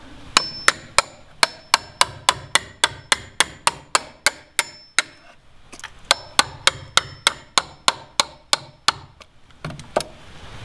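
A hammer strikes a chisel into wood in a fast, even series of sharp, loud knocks, about twenty in a row, a brief pause, then another run of similar blows, close up with no talking.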